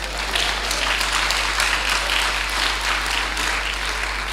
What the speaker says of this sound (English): If you want to clap well.